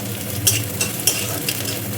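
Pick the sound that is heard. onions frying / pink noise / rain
onions frying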